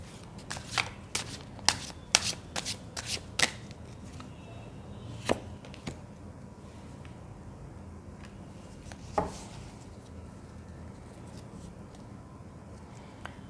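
A tarot card deck is shuffled in a series of quick, crisp riffling bursts early on, then sparser single card snaps and slides follow against a quiet room hum.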